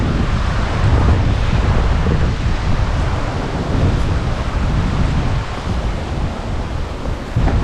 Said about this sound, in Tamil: இங்கே கீழே ஃபால்ஸ் இருக்குப்பா.